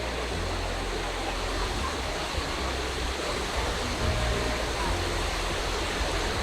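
Cold mountain valley stream water rushing through Jirisan's Jungsan-ri valley in Korea, a dense continuous roar of flowing water that fills the whole clip at steady loudness, close by.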